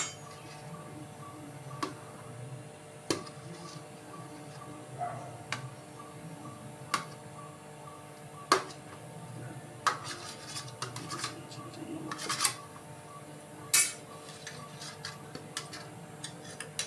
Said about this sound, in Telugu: ఈ ఇడ్లీని చిన్న చిన్న ముక్కలు చేసుకుంటాను